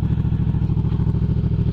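A Yamaha MT-07 motorcycle engine revs up close and loud, a rough, pulsing twin-cylinder roar with steady throbbing beats throughout.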